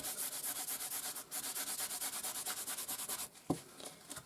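Repeated, rhythmic rubbing of Distress Oxide ink over heat-embossed paper makes a close, scratchy swishing in quick strokes, ending with a brief knock.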